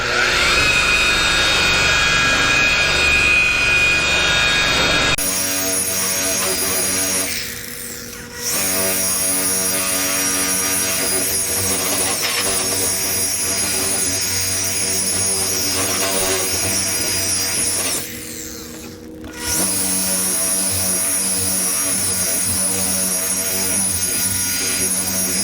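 A polishing buffer whines at high pitch while buffing a painted panel, a loud sustained tone that dips briefly twice as the load changes, with a person talking over it.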